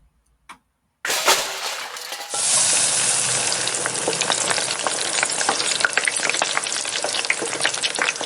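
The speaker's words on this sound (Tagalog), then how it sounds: "Nagluluto na si nanay ng almusal" After a couple of faint knocks, breakfast starts sizzling loudly in a hot pan, a steady crackling hiss with scattered pops that keeps going.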